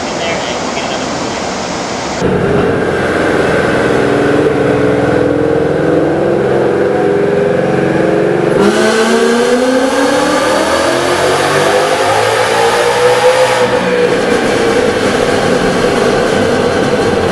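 Supercharged 2018 Whipple Mustang GT V8 on a dyno, a loud close roar that rises steadily in pitch as it revs hard through a pull, with faint background talk.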